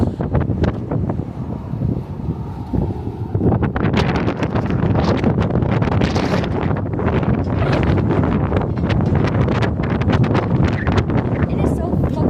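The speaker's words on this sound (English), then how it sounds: "It is so fucking windy" Strong wind gusts roar around an abandoned train, loud and buffeting against the microphone, while people talk over the rushing noise.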